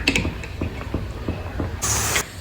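A pressure cooker of mutton on the stove releases a short, loud burst of steam hiss near the end, after a stretch of soft kitchen tapping and clatter.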